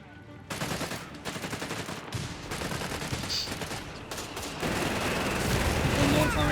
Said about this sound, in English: One more firing down there for heavy machine gun fire there, just ripping through Oziligath's forces.